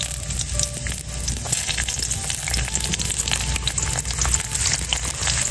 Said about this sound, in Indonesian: Minyaknya panas sudah nih, masukin bawang putih.